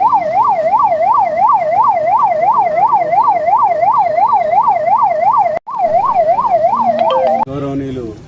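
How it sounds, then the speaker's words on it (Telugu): A Telangana ambulance siren wails loudly and close, a fast rising-and-falling tone repeating steadily, cutting out for a moment near the end before resuming, then giving way to a brief lower engine or horn tone. "మనకు ఇంకో అంబులెన్స్ కూడా వస్తుంది"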